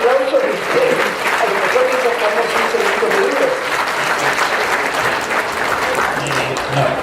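Audience applause at a book presentation, steady and full clapping from a crowd sustained throughout, with a few voices mixed in beneath the claps.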